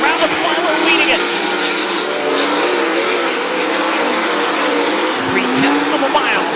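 Sprint cars roar around a dirt track during a heat race at the Brad Doty Classic, engines blaring continuously with loud, steady, distant-to-mid-range racing noise throughout, a brief tire-like squeal near the end, and commentary-level crowd ambience underneath.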